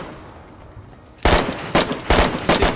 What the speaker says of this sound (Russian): Я сейчас буду стрелять по зомбарю.